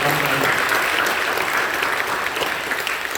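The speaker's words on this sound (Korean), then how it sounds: "박수로 보내주시고" A church congregation applauds during an early-morning Holy Week prayer service, with close, loud, continuous clapping for a few seconds and a brief voice at the very start.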